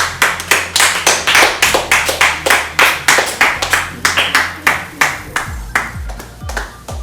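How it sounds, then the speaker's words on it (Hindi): Audience clapping for a guest team at a birthday show, heard as a quick run of sharp, distinct hand claps that thins toward the end, with no voices over it. "हमारी एक टीम, तालियां हो जाए उन के लिए।"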